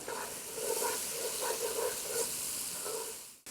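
Grated coconut sizzling in a hot pan while making rava vangibath, a close, steady hiss with crackling bursts lasting a few seconds before cutting off abruptly.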